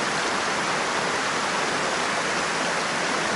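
A small waterfall pours in a steady, dense rush of white water, loud and close, with no break or other sound over it.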